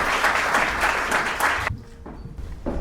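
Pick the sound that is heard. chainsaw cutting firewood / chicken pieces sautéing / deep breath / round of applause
round of applause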